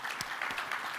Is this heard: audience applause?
yes